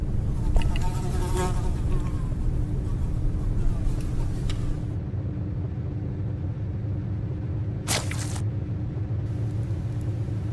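A fly buzzes steadily and close for the whole stretch, a droning whine over a low rumble, with brief sharper swells as it darts near.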